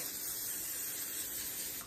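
Off-brand cooking spray hisses steadily onto a pan in one continuous, close burst lasting the whole moment, with no talking.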